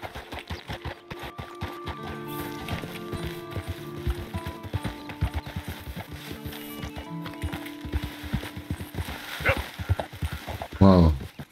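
Horse hooves clip-clop in rapid rhythmic gallop within the video game Red Dead Redemption 2, with in-game music tones and mechanical clicks, plus a short burst of louder noise near the end.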